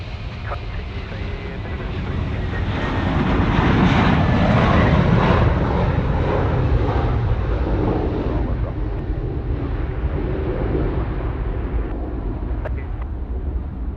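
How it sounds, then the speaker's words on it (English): A Boeing 717 taking off from Sydney Airport runway 34 right, a loud broad jet roar that swells to a peak and then holds as a sustained rumble with faint hiss. "the 717 about to blast off runway 34 right"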